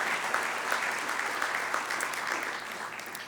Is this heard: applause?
yes